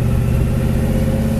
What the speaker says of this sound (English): The exhaust sounds so good on this thing